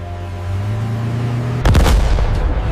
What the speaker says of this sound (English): Live fire exercises test the tank's offensive capabilities, engaging multiple targets with accuracy.